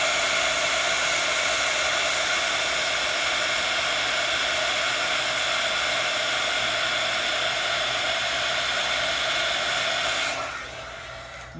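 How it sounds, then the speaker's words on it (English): A craft heat tool blows a loud, steady hiss and whirr while melting embossing powder, holding constant for about ten seconds before cutting off abruptly. "we're going to heat up our heat tool again, and then we'll melt the embossing powder"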